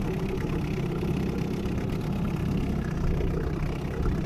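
An Evinrude two-stroke outboard motor runs steadily at a close, even drone with no change in pitch or level, and no voices over it.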